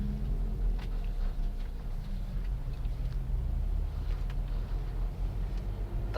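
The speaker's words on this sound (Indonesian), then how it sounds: "Nah, mobil-mobil gede nih memang." Big vehicles crawl through slow, congested holiday traffic on the Pantura road near Tegalgubug, Cirebon, with a continuous low engine rumble and some wind buffeting the microphone, steady and fairly close, without speech.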